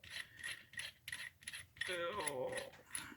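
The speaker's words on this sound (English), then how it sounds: "And all of this will screw together." Metal knife handle parts, likely for a hollow-handle survival knife, being screwed together, giving a run of close, rapid ratcheting clicks and rubbing threads, with a brief squeaky grinding turn near the end and no talking.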